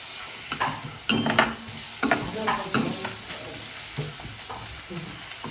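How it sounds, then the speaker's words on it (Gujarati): Ginger garlic paste hits chopped onions frying in a pan for a paneer cheese masala, bringing a steady sizzle with repeated scraping stir strokes and sharp bursts of spatter, close and fairly loud. "હવે આપણે તેમાં આદુ લસણની પેસ્ટ એડ કરી દઈશું."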